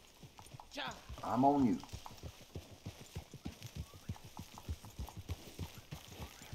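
A horse's hooves clip-clop in a steady, close rhythm in the video game Red Dead Redemption 2, continuing throughout under a few spoken words at the start.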